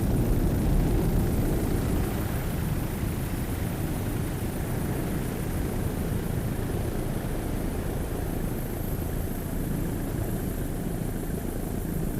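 A 38-foot Formula racing powerboat with twin 500-horsepower Mercruiser inboard engines runs at the 2002 Savannah Grand Prix, giving a steady, heavy engine roar that stays even throughout with no speech.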